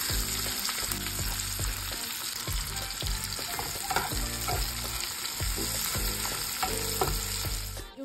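Sambal chili paste frying in a home kitchen pan gives a loud, constant sizzle with repeated scraping and stirring clatter, and no one speaks.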